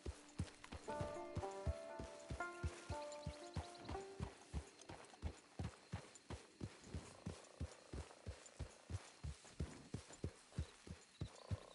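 Horse hooves in a video game clip-clop in a steady, even trot, loud and close throughout, with a short run of tonal game music over the opening seconds.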